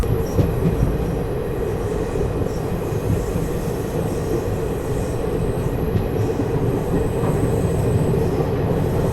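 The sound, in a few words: Mussoorie Express train moving after leaving Delhi Shahdara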